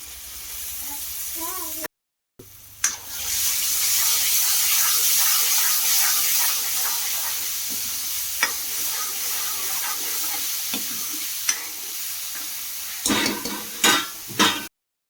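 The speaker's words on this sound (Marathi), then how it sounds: "छान तेल सुटलेले आता आपण टाकू उघडून घेतलेले वाटाणे" Peeled green peas tipped into hot oil in a pan hiss and sizzle steadily for a long stretch, loud and close, with brief scraping stirs near the end and a short break early on.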